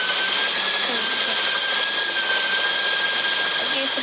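Jet pack thrusting in the mobile game Indian Bike Driving 3D, a steady roaring whoosh with a high whine held continuously and fairly loud, with no break in the sound.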